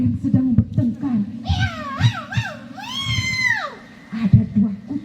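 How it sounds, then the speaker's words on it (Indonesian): Two cats fighting, with drawn-out rising and falling yowls and screeching meows in the middle, framed by a person talking at the start and end. "Ada 2 kucing yang sedang berkelahi."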